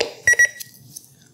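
A ThermoWorks TimeStack kitchen timer switches on with two short, bright electronic beeps close by, followed by a faint tail and quiet room tone.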